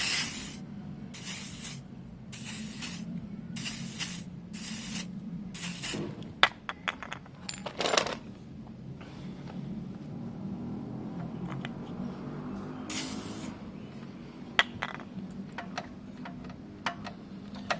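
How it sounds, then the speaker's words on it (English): WD-40 sprays onto the rear brake of a Ducati Monster M600 in a series of short, sharp aerosol bursts, each roughly a second long, with occasional clicks and small metallic taps between them and no talk. "I'm going to get a fair amount of WD in there."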